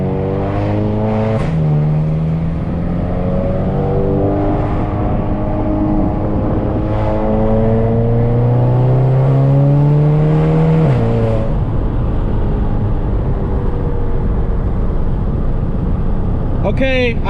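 A turbocharged VW MK7 GTI pulls at full throttle, its engine note climbing steadily through the gears with short dips at the shifts, heard loud from inside the cabin, then easing off near the end as a voice speaks.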